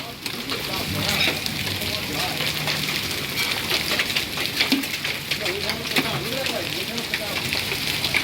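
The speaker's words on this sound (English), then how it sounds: "That's penny-sized hail, it looks like. But this is pea-sized hail," Pea-sized and penny-sized hail patter hard and steadily in a dense, hissing wash during a Spring Hill, Florida hailstorm, with a voice talking nearby over the constant clatter.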